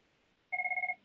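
A telephone rings once during a council meeting, a short, loud pulsing electronic trill that starts abruptly after near silence and cuts off after about half a second.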